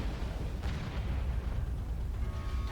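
A video game missile explosion hits as a deep, continuous rumbling roar filling the whole stretch, loud and close with no distinct separate blasts and no voices.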